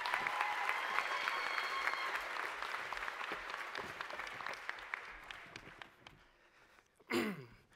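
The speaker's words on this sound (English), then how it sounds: "Let's give them a round of applause," Audience applause at a talent show, dense clapping from a crowd that gradually thins and fades over several seconds, followed by a brief loud rustle at the end.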